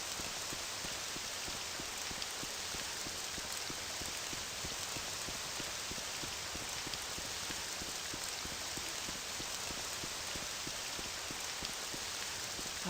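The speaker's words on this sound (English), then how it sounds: "I love the sound of rain." Rain falling in a video game, a steady, fine patter of drops hitting surfaces, soft and constant throughout with no voices.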